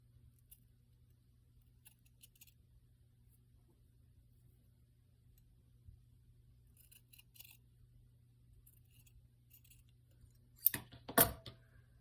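Scissors cutting during a cozy winter journaling session: two or three quick, sharp snips close together near the end, after a long stretch of near-silence with a low steady hum.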